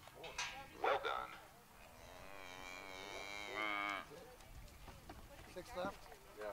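A cow gives a long, drawn-out moo in an indoor cattle sorting arena, with a dog's short barks and people talking faintly around it.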